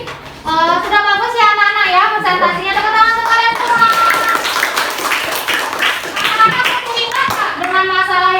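A class of schoolchildren claps in a classroom, a dense, steady patter of hands heard through the middle of the clip beneath a teacher's voice, which talks at the start and again at the end.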